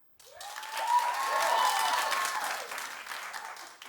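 Studio audience at a daytime talk show bursts into applause, a dense wash of clapping that swells quickly, holds steady, then gradually thins out.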